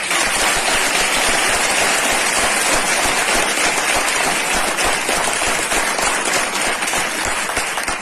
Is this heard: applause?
yes